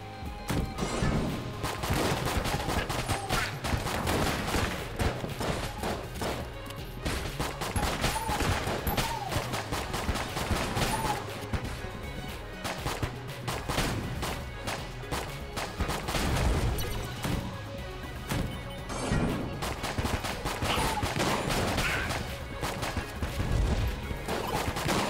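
Dense, chaotic gunfire in Enter the Gungeon, loud overlapping shots and impacts blurring together without a break for the whole stretch, no talking.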